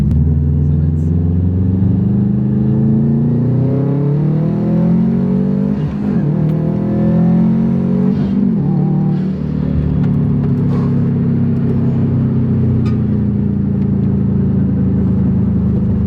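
A Subaru STI engine revving steadily at high pitch, droning loudly with slight rises and dips in tone throughout, close up and sustained.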